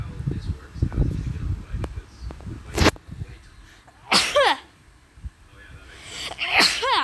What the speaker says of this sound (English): Okay, sorry, I just sneeze.